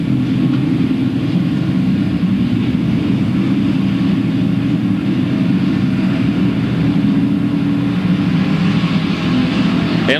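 Figure 8 race cars lapping Louisville Motor Speedway, a steady loud roar of engines filling the whole stretch with no break, pitch holding fairly even as the pack moves out of a turn.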